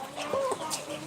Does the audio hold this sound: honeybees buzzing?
no